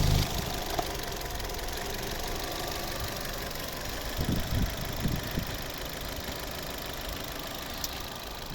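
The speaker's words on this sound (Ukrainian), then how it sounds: "ось робота двигуна" A 2010 Opel Zafira 1.8 petrol MPI engine idling steadily with a low, continuous rumble and faint knocking, heard close up with no voices.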